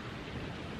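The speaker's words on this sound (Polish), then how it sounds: "jeszcze słychać szum wody" Steady broadband rushing of water overflowing in a canal, continuous and even, with no voices over it.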